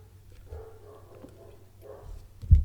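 A dog barks and whimpers indoors in short, fairly soft bursts, ending with one louder bark nearby, while someone outdoors cuts grass.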